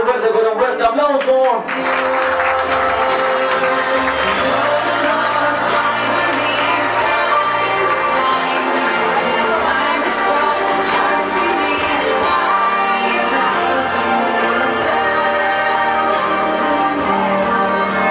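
At a fifteenth-birthday party, a crowd applauds the celebrants with sustained loud clapping and cheering that runs on steadily, with music and voices mixed in.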